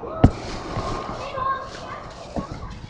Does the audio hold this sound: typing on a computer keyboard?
no